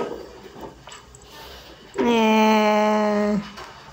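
A Siamese cat gives one loud, drawn-out, wavering meow lasting over a second, close up, after a few faint softer sounds.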